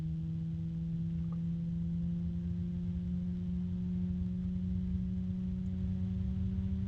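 A JMC 1225-12 computer fan runs with a whiny bearing noise: a steady, close hum carrying sustained tonal whine lines throughout, continuous and unchanging, with no talking.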